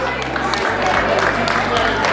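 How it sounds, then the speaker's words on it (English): An audience at a construction industry chapter event applauds its sponsors with a dense, continuous patter of clapping that fills the room and holds steady for about two seconds, with a low hum underneath. "So please give yourself a round of applause."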